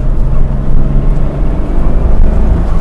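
A tribute 1973 Porsche Carrera RS with a 2.7 engine drives on a cloudy Sunday in São Paulo, a steady loud engine drone with road and wind rush throughout and no voices.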